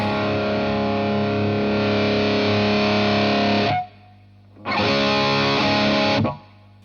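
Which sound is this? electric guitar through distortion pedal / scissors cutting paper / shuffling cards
electric guitar through distortion pedal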